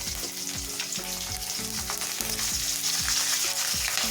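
Green chilies crackle and sizzle loudly in hot oil for temple-style daddojanam, a dense close frying hiss punctuated by rhythmic stirring scrapes throughout.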